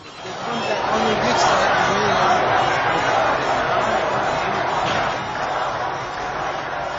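A protest crowd on Valiasr Street in Tehran fills the air with a dense, continuous roar of many voices, some shouting, loud and constant from start to finish.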